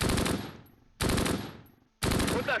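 Machine-gun fire from the Close Combat video game, set in Normandy in 1944, comes in three loud, close bursts of rapid shots, each one tailing off before the next begins.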